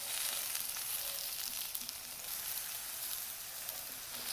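Eggplant slices fry in a pan with a steady, close high-pitched sizzle. The hiss stays broad and even throughout, with faint small crackles and no voices.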